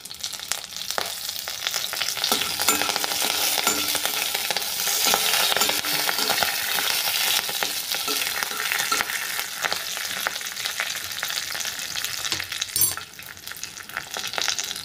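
Curry leaves crackle and sizzle in hot oil in a pan with lentils, garlic and ginger for a roasted red capsicum chutney, a dense steady frying hiss with sharp spits, close and loud throughout, no voices.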